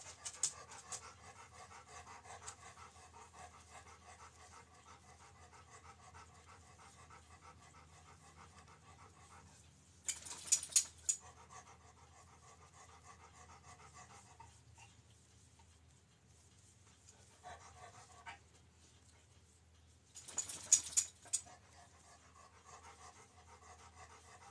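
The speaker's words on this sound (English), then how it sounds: "I swear this dog is going to make me psycho." A dog pants steadily and close by for about twenty-five seconds indoors, with two short louder bursts of noise breaking in partway through; no one speaks.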